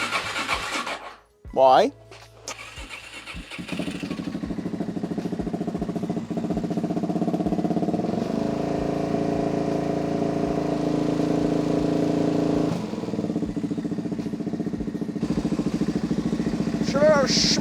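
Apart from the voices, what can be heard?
dry sump motorcycle engine starting and revving to warm up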